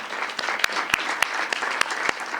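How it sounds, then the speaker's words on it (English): Brief, lively clapping from a panel discussion audience on childcare and work, with dense hand claps and a few sharper claps standing out, no talking over it. "Let's give a round of applause to our panelists."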